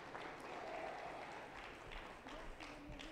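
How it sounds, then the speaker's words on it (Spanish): Congregation applauding at an evangelical church service in Cajamarca, a steady hum of clapping with voices mixed in throughout, fairly faint and even. "Aplauso contento para Jesús."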